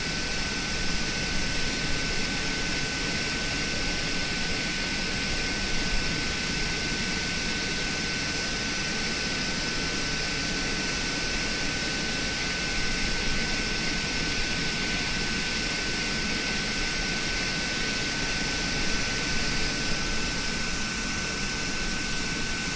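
A tug pushes back an Airbus A320 in a winter flight simulator at Portland airport. A steady, loud whine and roar of engines and ground equipment drones on with a thin, constant high tone, with no talk.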